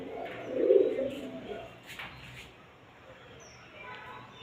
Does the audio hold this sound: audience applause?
no